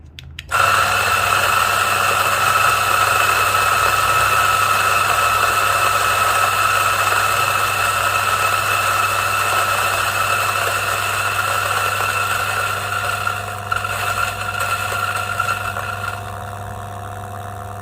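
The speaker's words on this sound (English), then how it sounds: "So let's see how it grinds." A DF64 coffee grinder grinds beans with a loud, steady motor whine and whir that starts abruptly, holds close and constant, and eases off slightly near the end.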